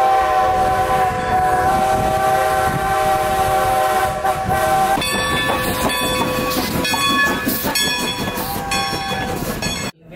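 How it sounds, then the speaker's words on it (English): A train rolls past at close range, its horn-like whistle sounding loudly in long sustained blasts over the rumble and clatter of the cars, ending abruptly. "You hear that train whistle sooner than it hears itself."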